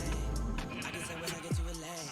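Sheep in a video game farm bleat once with a wavering cry, close and clear over a steady background hum, with a short falling call near the end.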